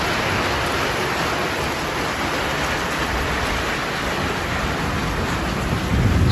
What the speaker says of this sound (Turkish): şöyle yağmur yağması gerçekten çok güzel